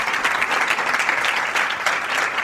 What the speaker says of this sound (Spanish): así que le damos un fuerte aplauso